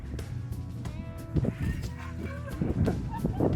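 Mexican gulls calling while being fed at a lagoon, a chorus of honking, squawking cries coming in bursts over busy background noise.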